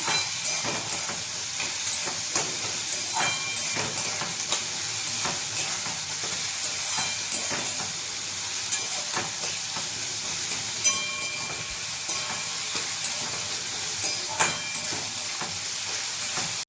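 Steady sizzling and spattering of frying in a pan while cooking lau (bottle gourd) kofta curry, with occasional stirring scrapes and small pops over a continuous hiss, close and moderately loud with no talking.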